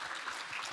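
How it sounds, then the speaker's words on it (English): A conference audience at a fintech investing event bursts into a brief, dense patter of clapping that fills the whole short moment. "Big round of applause, and let's move to the next section."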